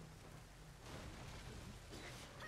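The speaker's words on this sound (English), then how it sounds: "So we're at this shrine, and there's rain and lightning going on." Rain hisses steadily at a shrine in the video game Nioh, with low rumbling swells beneath it, heard quietly and without voices.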